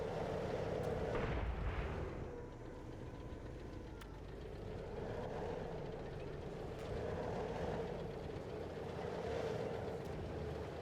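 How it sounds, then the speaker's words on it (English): T-72 tanks trade gunfire in a video game, heard as faint, distant booming shots over a low rumbling background, with one stronger blast early on. "They're just engaging the other T-72 right now."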